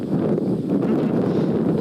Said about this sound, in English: I don't know if the wind is getting picked up.